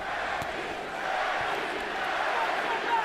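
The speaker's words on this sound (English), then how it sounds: "The chant you hear is Manny, Manny, Manny" A boxing crowd at the 2012 Pacquiao vs Bradley fight chants for Manny Pacquiao, a dense, steady roar of many voices filling the arena for the whole stretch.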